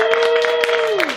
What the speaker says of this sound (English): Big round of applause to my panel, everybody.